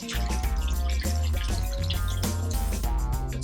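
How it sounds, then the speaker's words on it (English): Water poured into a tray of sponges in a flood plain model simulating rainfall gives steady splashing and dripping, close and continuous throughout with no talk. "So we're going to pour some water in the tray."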